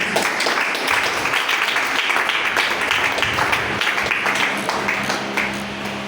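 A church congregation applauding and acclaiming during a sermon, a continuous wash of clapping mixed with cheering voices, loud and sustained across the whole stretch.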